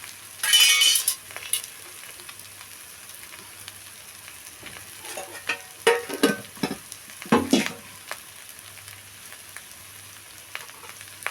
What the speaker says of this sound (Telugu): ఆ బాస్మతి రైస్ని వేసుకొని కలుపుకుందామండి